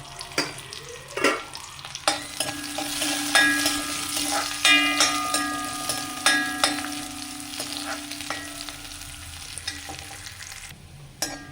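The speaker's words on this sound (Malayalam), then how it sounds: "അതിലേക്ക് ഉള്ളി അരിഞ്ഞത് ഇട്ട് കൊടുത്തിട്ടുണ്ട് ഇനി അതിലേക്ക് കറിവേപ്പില ഇട്ട് കൊടുത്തു ഇനി ഇതൊന്ന് മൂത്ത് വരട്ടെ" Chopped onions and curry leaves frying in hot oil for a Kerala lentil-and-spinach curry, with a continuous crackling sizzle and repeated scraping stirs of a spoon against the pan, close and fairly loud.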